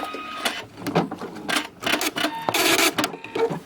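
A sewing machine stitches through thick layers of quilt binding, clattering in short uneven bursts with brief pauses between runs of stitches, close and fairly loud with no talk.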